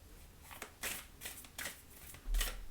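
Oracle cards shuffled and drawn in a few brisk, close swishing riffles spaced across a couple of seconds, soft but clear, with no talking.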